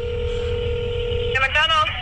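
A telephone places a call to a McDonald's: a steady dial tone hums, then a quick run of dialing tones beeps near the end, loud and close.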